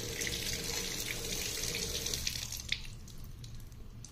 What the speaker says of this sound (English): I'm actually going to wash it off with a little bit of tap water first.